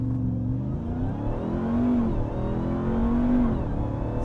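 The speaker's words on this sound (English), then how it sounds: "Launch enabled, apply full throttle." A RAM 1500 TRX Final Edition doing a full-throttle launch-control start, its engine note climbing and swelling loudly in two rising surges, close and dominant with no talk.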